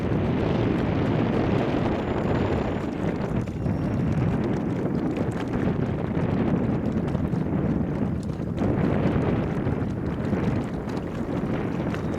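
Steady wind roars and buffets across a lake while fishing from a small boat, a continuous, loud rush with no voices and no break.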